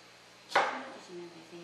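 A knife comes down once on a wooden board while chopping vegetables, a single crisp close chop followed by quiet room tone.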